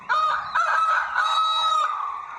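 A rooster crows in the morning, one long loud cock-a-doodle-doo heard close up and alone, with no other sounds around it.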